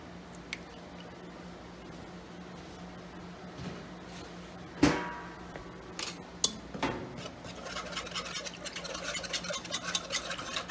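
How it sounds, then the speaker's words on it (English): Cream being whisked into a flour mixture in a pan for baked bacon mac and cheese: soft, wet squishing and faint ticking strokes, quiet and close, with a few sharper clinks of the whisk against the pan. "And just whisk it all around"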